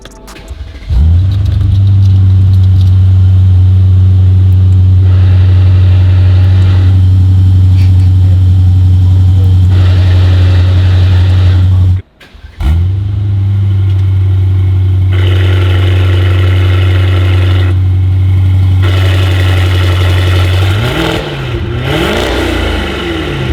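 An Aston Martin in a supercar showroom starts up with a loud bark. It settles into a deep, steady idle, cuts out briefly and fires again, then revs near the end.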